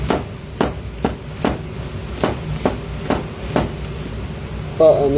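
A knife slices an onion on a cutting board in a Korean noodle restaurant kitchen, making about eight evenly spaced, crisp chops, close and distinct, with a brief clatter at the end.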